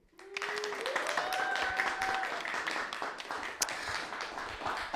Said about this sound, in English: let's have a round of applause, first of all, for these lovely people